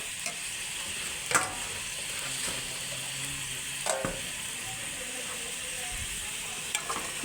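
A pan of lentil dal with a fried egg added is stirred steadily under a soft, constant simmering hiss, broken by a few sharp spoon clicks against the pan; no one speaks.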